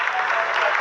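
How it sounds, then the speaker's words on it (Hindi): Dense applause fills the mission control room during the Chandrayaan-3 lunar landing, a steady loud wash of many clapping hands with a voice faintly under it. "आप तालियों के गड़गड़ाहट से सुन सकते हैं"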